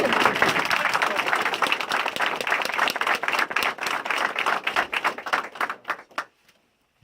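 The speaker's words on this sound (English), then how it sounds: "a quick round of applause for everyone that got selected to go to Dallas" A room full of people at a company meeting clap in a brisk round of applause that thins into scattered individual claps and stops near the end.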